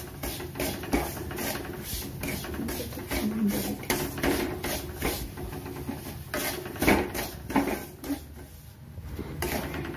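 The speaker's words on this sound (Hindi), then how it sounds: "अब इसको 4-5 मिनट के लिए चलाते हुए हम भून लेंगे ब्राउन होने तक" Semolina being stirred and roasted in ghee in a pan over medium heat, with repeated scraping strokes of the spoon against the pan in a fairly steady rhythm, close and clear.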